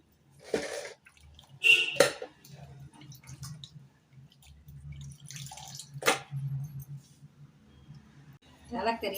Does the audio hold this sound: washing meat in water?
yes